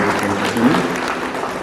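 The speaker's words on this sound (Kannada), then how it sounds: "ಇಡೀ ನಮ್ಮ ತಂಡಕ್ಕೆ ಎಲ್ಲ ಸೇರಿ ಒಂದು ದೊಡ್ಡ ಚಪ್ಪಾಳೆಯನ್ನು ಕೊಡಬೇಕು" An audience claps for the team at the inauguration of a Kia service centre, a brief dense patter of many hands at a steady level.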